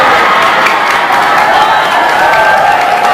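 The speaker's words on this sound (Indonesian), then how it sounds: "Kau tepuk tangan," A large audience at a religious lecture makes loud, continuous crowd noise, a mix of clapping and voices with no break.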